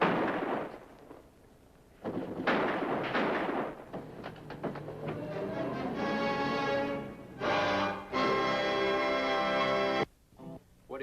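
Gunfire erupts at a roadside service station in a 1950s highway patrol TV drama, a few sharp loud shots followed by a dense, echoing mix of tones and clatter with no speech.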